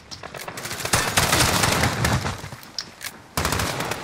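Rapid automatic gunfire from the video game Modern Warfare played on Xbox, loud bursts of machine-gun fire running nearly continuously with brief lulls between volleys.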